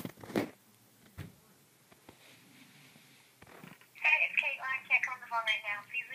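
A telephone call during a prank call at a sleepover, with a ringing or electronic phone tone sounding repeatedly near the end after a stretch of quiet talk and small noises.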